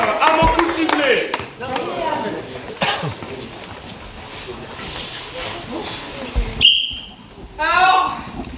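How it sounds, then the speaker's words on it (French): A brief, piercing whistle blast cuts in near the end, amid lively background voices and crowd chatter. "Mettez-vous en place à mon coup de sifflet."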